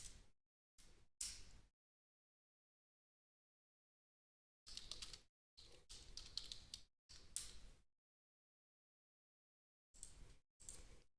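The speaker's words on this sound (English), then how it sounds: "you guys can see what I'm typing" Faint, sparse bursts of typing on a computer keyboard, short clusters of light clicks separated by long silences, quiet and close with no talking.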